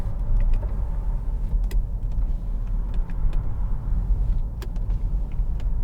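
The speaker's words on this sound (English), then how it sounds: "Electric window switches here, which must just test." The electric windows of a 2013 Jaguar XF 2.2 TD Premium Luxury run with a steady low motor hum inside the cabin, broken by scattered small clicks and creaks of the switches and glass, close and continuous, with no talking.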